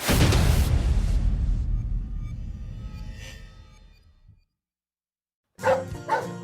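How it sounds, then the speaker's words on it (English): A loud crash rings out and slowly fades to silence, then a dog gives two sharp, close barks. "That's my dog, Annie."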